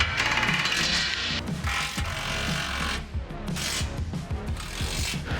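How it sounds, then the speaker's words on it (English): A socket ratchet tightening the bashplate bolts on a Pajero Sport, giving a steady, close, loud run of rapid mechanical clicking and grinding with scraping metal texture throughout and no speech. "One main thing I always do is double check with the socket to make sure everything is nice and tight."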